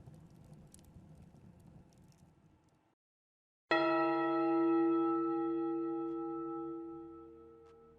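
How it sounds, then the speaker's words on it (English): A single loud bell strike rings out from a bell tower after a quiet pause, its ringing tone sustaining and slowly decaying, preceded by faint pattering noise. "The clanging bells shattered my eardrums."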